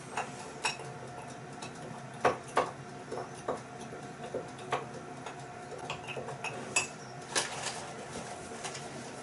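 Quiet, irregular clinks and taps of a utensil against a pan while Bisto gravy powder is stirred into gravy in a home kitchen, soft scraping between the light knocks.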